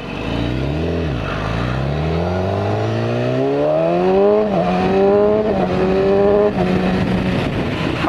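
BMW S1000RR sport motorcycle engine revving hard while riding, pitch climbing through several rapid quick-shifter upshifts with brief drops between gears, loud and close, no talking.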